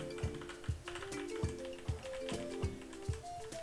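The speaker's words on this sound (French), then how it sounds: "Pour un clavier mécanique, en tout cas, il n'y a quasiment pas de bruit." Mechanical keys with red switches clack in a slow, uneven rhythm of soft taps close by, fairly quiet, with no talking.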